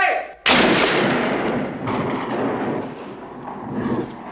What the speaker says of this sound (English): where you hear the ricochet, the echo of the gunshot